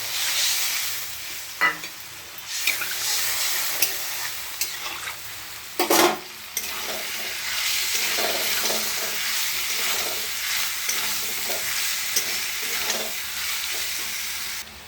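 Fish masala being sautéed in a pan for a Bengali fish curry: a steady, fairly loud hiss of sizzling oil, broken by scraping stirs and a few sharper clanks of the spatula against the pan.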